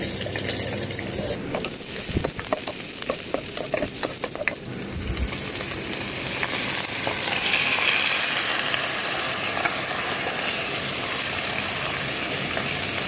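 Onions sizzle steadily in a frying pan, a loud continuous crackle with brief stirring clatter early on, then an even hiss that holds to the end.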